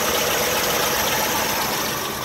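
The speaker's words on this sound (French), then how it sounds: "on va écouter le moteur. Il est très très très doux, très régulier. Un petit couinement de la courroie." A 1948 DeSoto convertible's engine idles smoothly and steadily at close range, a constant even drone with a faint high belt squeak riding on top.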